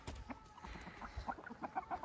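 Chickens in a backyard coop cluck and murmur softly after being fed, with scattered short calls and a few higher peeps, faint and fairly close, with no talking.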